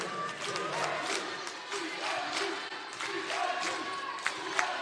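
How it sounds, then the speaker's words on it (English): A large crowd cheers and chants loudly and continuously at a college volleyball match, a dense roar of voices filling an indoor arena. "But listen to this crowd."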